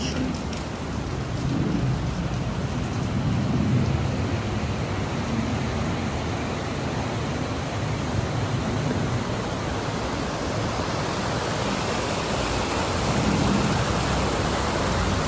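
Steady rain falls heavily under a stone bridge over a mountain river, a constant dense hiss with no voices.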